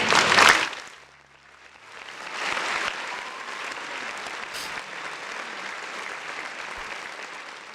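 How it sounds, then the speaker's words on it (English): A crowd applauds, a burst of clapping at the start that dips briefly, then swells again into steady, sustained applause lasting to the end. "big round of applause for everybody in the chat"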